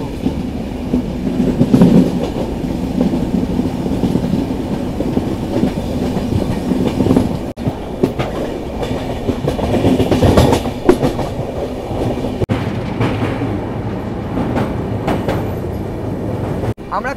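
A passenger train runs on rails through open hill country between Kolkata and Kalimpong, with continuous loud wheel rumble, rattling carriages and clickety-clack over joints, plus occasional sharp knocks and faint voices in the carriage.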